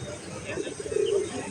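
Pigeons coo softly in a busy pigeon market in Bangladesh, a brief low rolling coo rising near the end over a steady crowd murmur and background voices.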